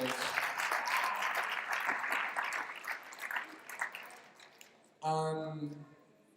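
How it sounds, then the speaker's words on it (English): Audience applause at the AUN Academy secondary school Class of 2020 graduation ceremony: a dense round of clapping that thins out and fades over several seconds, then a short, loud tonal sound cuts in near the end. "Please, can you guys give her a round of applause?"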